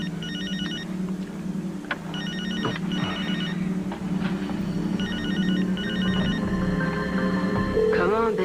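A telephone rings repeatedly in bursts of electronic trills, with steady background hum and a brief voice near the end.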